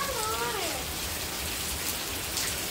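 Rain falls on a roof during a house renovation, a steady dense hiss of drops that stays constant throughout, with a brief tonal whine fading in the first moment.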